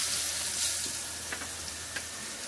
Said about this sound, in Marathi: आणि आता आपल्याला लसूण घालायचं आहे कालवणमध्ये.